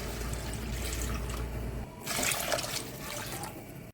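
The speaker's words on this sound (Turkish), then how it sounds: "6 su bardağı sıcak suyu ekliyorum." Hot water poured into a pot of red lentil soup with bulgur and rice, a rushing liquid pour that shifts pitch midway and continues to the end, close and unaccompanied by speech.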